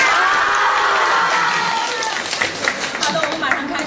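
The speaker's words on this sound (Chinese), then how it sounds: "还有掌声，我们要送给帅气的不得了的、让人怦然心动的高云翔" Audience applause and cheering fill a hall during a Zhengzhou interview event as a celebrity guest is welcomed, loud and steady at first and then thinning into scattered claps and shouts.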